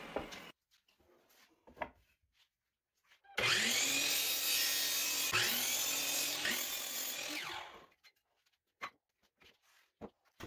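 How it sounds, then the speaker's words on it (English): A miter saw cuts pine 2x6 strips to length: a loud, sustained whine of the blade biting through the wood for about four seconds, framed by quiet handling clicks and knocks before and after. "I can take those five strips over to the miter saw and cut my pieces to length"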